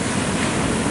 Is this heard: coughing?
no